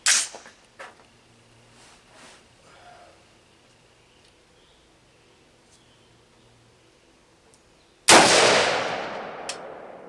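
A Savage MSR15 Recon rifle fires hand-loaded rounds on a range, heard as one sharp loud crack near the start and another near the end with a long decaying roar and a brief follow-up pop, between faint quiet stretches.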